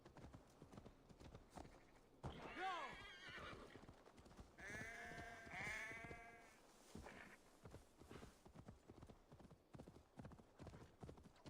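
In Assassin's Creed Valhalla, a horse's hooves clip-clop steadily and close throughout, with a couple of whinny-like animal calls in the middle while the game plays on.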